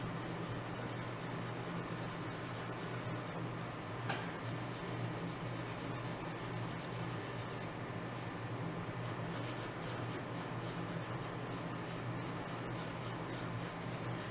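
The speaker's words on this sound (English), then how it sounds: "we darken by applying pressure, hatching, and cross hatching." A pencil hatches and cross-hatches on paper in a drawing lesson, with a steady, faint dry scratching of quick repeated strokes throughout.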